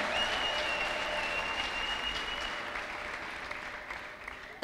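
A church congregation claps in sustained, dense applause that gradually fades toward the end, with a high ululating trill ringing above the clapping.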